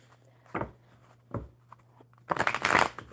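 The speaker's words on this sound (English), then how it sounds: "one more good shuffle for Carrie" Tarot cards being shuffled by hand during a live card reading, with a couple of soft riffling pulses followed by a louder, denser flurry of card shuffling.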